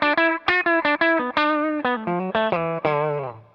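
An electric guitar played clean with no pedal picks a quick melodic phrase of about a dozen bright, separate notes, close and loud, the final note left ringing out and fading.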